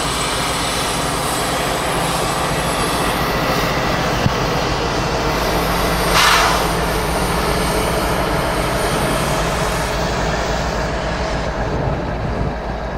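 CSX freight train number 908 rolls slowly through snow during a New York blizzard, a constant heavy rumble of railcars close by with one brief squeal midway, continuing steadily throughout.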